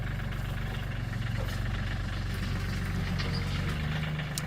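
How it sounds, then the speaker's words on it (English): A tractor engine rumbles steadily at idle on a farm before digging irrigation lines, a continuous low, even throb close by with no break. "So now what we're doing is we're getting the tractor out so that we can start digging irrigation lines"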